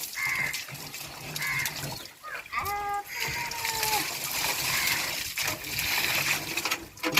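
Water splashing and sloshing as cans are washed outdoors in a Jaffna village, with bursts of slapping water and clanking under some background voices.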